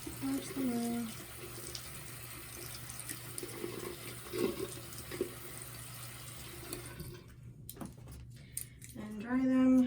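Tap water runs into a sink while makeup brushes are rinsed, a soft steady wash with someone talking over it, ending in a brief louder splash and squeak.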